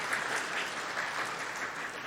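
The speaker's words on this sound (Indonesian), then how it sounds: "Beri tepuk tangan untuk Tuhan" A church congregation applauds during a Christmas service for the elderly, a dense, even wash of many hands clapping together, steady and moderately loud from start to end.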